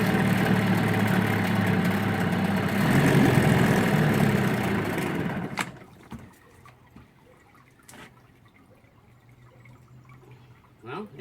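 A Zip boat's engine turns over and fires, roaring loudly up close for several seconds before cutting out to a low idle rumble with a few knocks, no talking.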